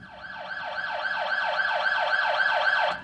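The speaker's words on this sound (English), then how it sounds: "There goes an ambulance." Ambulance siren effect produced by a Kawai DG-30 digital grand piano, a rapidly warbling electronic wail that cycles steadily up and down for about three seconds at moderate volume, with no talking.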